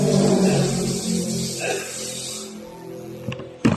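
A Toyota Vios engine revs in a garage during a test for a stumbling, hesitating acceleration fault. A loud, steady run at the start eases down to a lower, quieter hum, with a couple of sharp knocks near the end.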